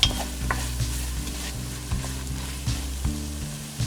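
A chicken gnocchi soup base with salt is stirred in a pot over the heat, giving a soft continuous sizzle broken by repeated scrapes and knocks of the spoon.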